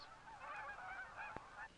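Canada geese honking in flight during migration, a faint, distant chorus of overlapping nasal calls running steadily throughout, with one sharper call standing out near the end.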